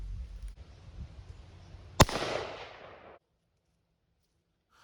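A single shot from an AR-15 rifle with a binary trigger, fired at a scoped target setup: one sharp, loud crack with a short decaying echo tail against a low, quiet background that then falls silent.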